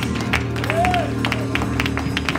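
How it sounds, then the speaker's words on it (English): A church congregation claps along during a Father's Day service, quick repeated handclaps layered over sustained music tones in a full, reverberant room. "If you agree with that prayer, clap your hands one more time"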